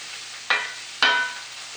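Haluski, cabbage and egg noodles, stir-frying in butter in a pan, with a steady soft sizzle broken by two sharp louder spatters about half a second apart as the food is tossed.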